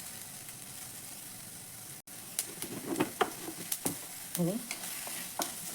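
Sesame seeds, dal, roasted chana and onion sauté in a pan with a steady sizzle, broken by a string of louder scraping stirs in the second half; one brief word of speech is heard.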